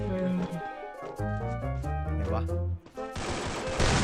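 Gunfire from the video game Free Fire erupts as a dense burst of shots near the end, following a stretch dominated by loud, tonal game music.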